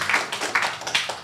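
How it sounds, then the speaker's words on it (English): A few sparse claps from an audience at a county commission workshop meeting, four separate sharp slaps spaced irregularly over about a second, moderately close in a quiet room. "the clapping just wastes time for everybody else to get their time in to speak"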